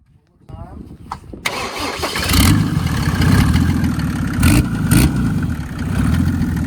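An OM606 diesel engine in a high-horsepower drag car cranks briefly, then catches and settles into a loud, rough, steady idle nearby, with people talking over it.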